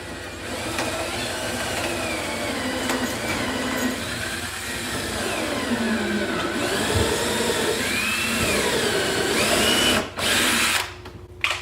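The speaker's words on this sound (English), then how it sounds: "we can just drill right into it" A power drill whines loudly and steadily up close as it bores into pine, its pitch shifting as it cuts in, then cutting out near the end.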